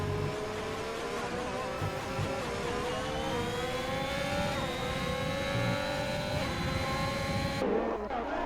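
A McLaren race car in a sim racing game, its engine whine climbing steadily in pitch as it accelerates, ending with an abrupt cut and a short skid-like burst.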